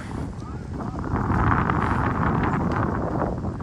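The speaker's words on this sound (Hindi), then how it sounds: "बहुत ज़बरदस्त हवा चल रही है, ठंड भी है।" Strong wind buffets the microphone in Rock Springs Park in Lawrenceville, Georgia, a loud, steady roaring rush with gusty swells that holds throughout and stays fairly even in strength.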